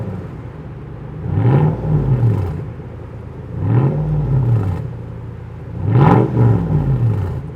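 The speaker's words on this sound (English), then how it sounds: "Okay, I'm gonna rev it a little." A car engine revved three times in succession, each rev a rising and falling swell of mid-pitched growl over a steady idle, spaced a couple of seconds apart with nobody speaking.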